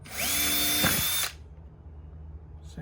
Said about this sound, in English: Let's drill it here.